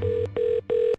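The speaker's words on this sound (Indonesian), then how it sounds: "Teleponku berdering lagi." A telephone rings close by with short electronic tones, three even bursts separated by brief gaps, clear and alone.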